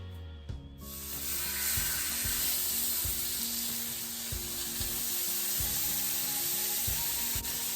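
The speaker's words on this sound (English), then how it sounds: "I'm gonna go ahead and put this steak on this front griddle part." A steak sizzles on the front griddle section of a Costco griddle, a loud steady frying hiss that starts abruptly and keeps going, with no talking over it.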